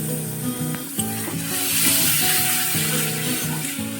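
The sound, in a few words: spices with sugar being fried and stirred in oil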